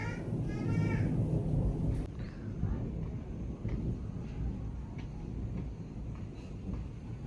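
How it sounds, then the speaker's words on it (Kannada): Thunder rumbles outside during the first rain over Bengaluru, a sustained low, rolling roar lasting several seconds, moderately loud and steady, with no other sounds standing out. "ವಾ ಗುಡುಗು."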